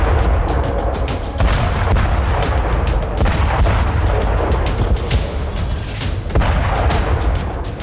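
Russian artillery shelling in Ukraine, a dense, continuous barrage of heavy booms and rumbling blasts, loud and overlapping with no pauses and no speech.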